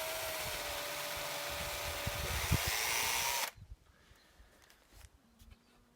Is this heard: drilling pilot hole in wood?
yes